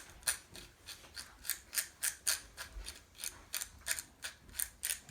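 Plastic and metal differential gears from a Pro-Line Pro-Fusion SC 4x4 1/10 short course truck are rotated back and forth by hand, giving a rapid series of close, quiet ratcheting clicks in short repeated bursts.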